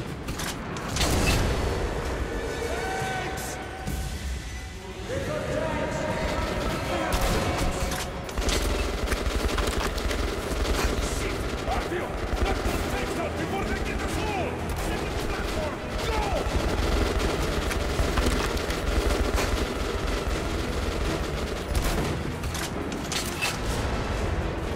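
Gunfire in Metro Last Light Redux, loud repeated shots and bursts with mechanical clanks and creaks running throughout, mixed with game effects and occasional talk.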